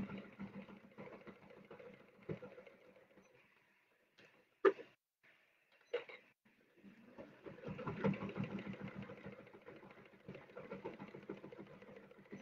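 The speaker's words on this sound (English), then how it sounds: "So we're just going to sew this down." A sewing machine stitches down a painted, quilted cushion cover in steady mechanical runs, broken by a few sharp clicks and short pauses partway through.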